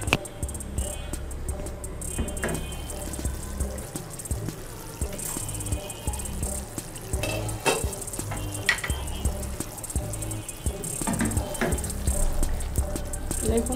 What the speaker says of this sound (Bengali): তো দেখি এখন আমার মাংসটা কতটুকু কষানো হয়েছে